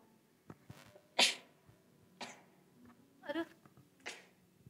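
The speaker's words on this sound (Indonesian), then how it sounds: "saya tuh agak suka bersin bersin gitu ya kalau ada hal-hal yang sensitif" A woman sneezes several times in a row, sharp bursts spaced about a second apart, close and fairly loud against a quiet room, with small breaths between them.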